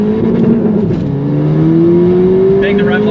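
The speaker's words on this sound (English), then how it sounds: "Bang the rev limiter a little bit there." A Ford Fiesta ST with an E30 tune accelerating hard on a timed run, its engine note climbing loud and close before bouncing off the rev limiter.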